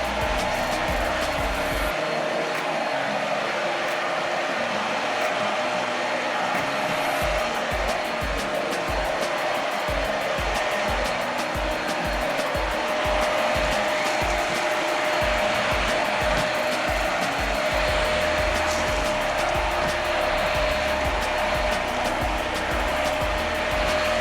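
GeeMo lightweight vacuum cleaner sucking up pine needles, a loud continuous motor whine with a steady tonal hum, running close for the whole stretch while debris rattles faintly through the intake.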